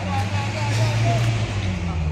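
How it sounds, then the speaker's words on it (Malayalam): Traffic at the Mookambika bus stand in Kollur: a steady low engine rumble from idling and moving vehicles close by, under someone talking. "ഇതെല്ലാം മൂകാംബിക ബസ് സ്റ്റാൻഡാണ്"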